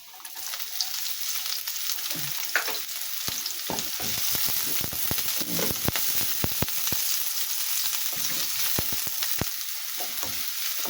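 Onion frying in a pan as part of cooking upo gourd with sardines, a steady close sizzle with scattered crackles and a few scraping stir strokes, no talking.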